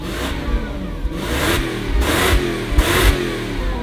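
A V8 project car with no exhaust fitted revs hard in four repeated bursts, each surge rising and falling between rough idle, loud and close.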